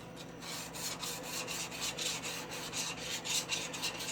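A hand plane cutting iron being lapped flat on a DMT DiaSharp continuous-grit 8x3 diamond plate, giving a steady, close rubbing rasp in repeated back-and-forth strokes with no talking.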